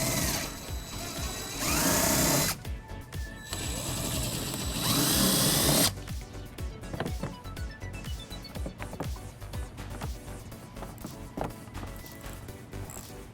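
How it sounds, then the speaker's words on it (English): Ratchet with an 8mm socket backing out bumper bolts on a 2010 BMW X5, with quick, repeated clicking bursts up close, loud busy mechanical rattles first, then lighter intermittent ratcheting. "we're going to remove using an 8mm socket"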